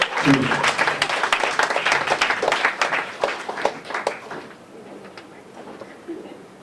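An audience at an evening guru talk applauds the speakers, with a burst of many claps that fades over several seconds into scattered claps and faint room murmur.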